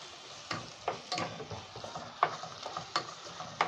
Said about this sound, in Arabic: بعد ما اللحمه كده والبصل خدت تشويحه حلوه هنزل كده بايه، فص ثوم